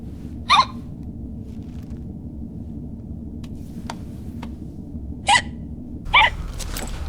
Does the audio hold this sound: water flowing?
no